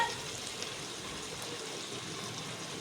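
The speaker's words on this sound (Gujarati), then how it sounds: "આપણે બટેટા તેલમાં વઘાર કરીએ" Potatoes tempering in hot oil for a Gujarati rice dish give a steady, close frying sizzle, an even broadband hiss that holds level throughout with no voices.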